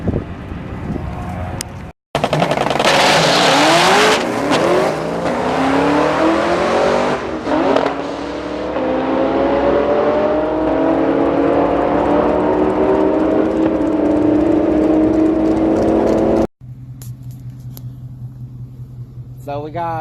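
Drag race car making a full run, its engine roaring loudly as it revs and climbs through the gears, with wind buffeting the microphone, then quiet engine noise and faint talk after a sudden cut.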